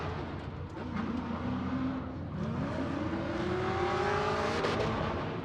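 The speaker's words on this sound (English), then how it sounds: "Alex Schlagel on this Drift HQ Achilles tire, another 240SX" Nissan 240SX drift car on Achilles tires during Formula Drift PRO2 qualifying, engine revving hard and rising in pitch amid loud tire noise, heard at a distance over crowd-level background.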